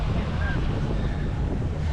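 Rough sea surf rolls onto a beach at Playa Mamitas in Playa del Carmen, with strong wind buffeting the microphone in a constant loud roar throughout.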